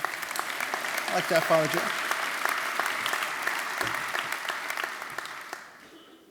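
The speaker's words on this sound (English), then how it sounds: "You can applaud for that." Loud sustained applause from an audience at a 2016 city government State of the City address, a dense clapping crowd lasting several seconds before tapering off, with a brief spoken phrase over it.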